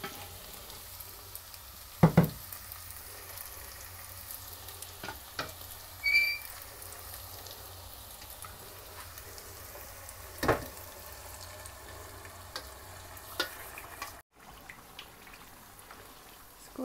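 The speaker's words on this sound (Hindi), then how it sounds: "अदरक डाल के थोड़ा सा इसको 1 मिनट के लिए फ्राई करेंगे। अब इसमें साग शामिल कर देंगे।" Ginger and greens for kale and broccoli saag frying in a pan, a soft continuous sizzle with occasional sharp clinks and scrapes of stirring spaced through a quiet kitchen.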